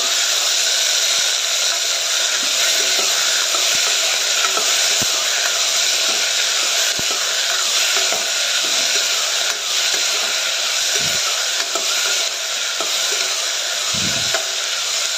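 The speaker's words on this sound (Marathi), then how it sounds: "सर्व भाज्या घालून चांगले परतून घ्यायचं आहे." Mixed vegetables sauté in a hot pan with a continuous loud sizzling hiss, steady throughout, with a few soft clinks from stirring.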